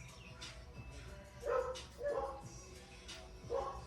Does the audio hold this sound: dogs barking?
yes